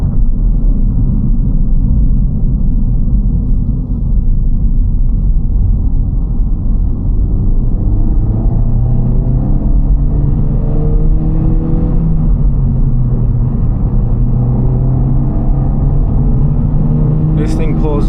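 A Honda Civic Type R engine accelerates with a steady, loud low rumble heard from inside the car, rising gradually in pitch as it pulls, while someone talks over it.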